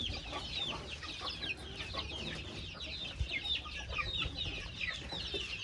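Chickens cluck and chatter steadily close by, with layered bird calls over a constant low rumbling background.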